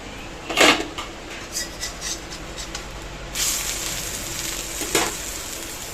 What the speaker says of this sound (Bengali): তো চিকেনটা দেখো ভেজে নিচ্ছি